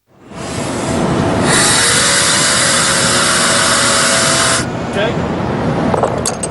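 Four Boeing 747 jet engines start up at the factory, a loud broad hissing roar swelling up and holding steady for a few seconds before dropping back to a lower rumble with faint clanks.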